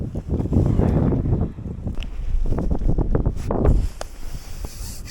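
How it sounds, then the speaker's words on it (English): Strong, gusty wind buffets the microphone out on the water while fishing, roaring in uneven surges with rustling and brief knocks, no talk. "that wind's getting much stronger now"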